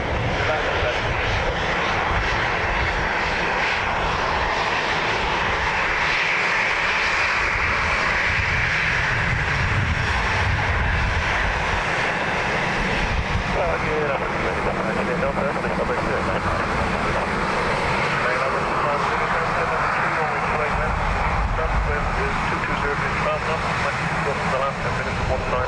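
An airplane going around at Dublin Airport on runway 28 left, a loud, sustained aircraft engine roar with no letup, while a person talks over it.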